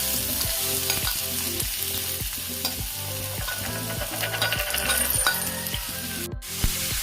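Onions frying in rice bran oil in a pan, a steady loud sizzle broken by a regular rhythm of stirring strokes, close and continuous.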